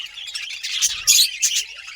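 Small birds chirping and tweeting nearby in quick, bright bursts, several calls overlapping, with no talking.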